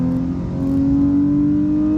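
A car engine in third gear holds a loud, steady whine that climbs slightly in pitch as it accelerates on a track, close and continuous throughout.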